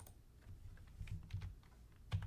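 Quiet typing on a computer keyboard: a short run of soft, irregular key clicks, close and faint, with no voices over them.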